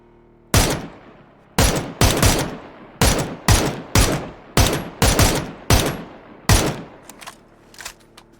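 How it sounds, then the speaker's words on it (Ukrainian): A rapid series of loud, sharp gunshots in the video game PUBG fires in irregular bursts, each crack ringing briefly, tapering off to fainter scattered shots at the end. "Ще трішки постріляємо."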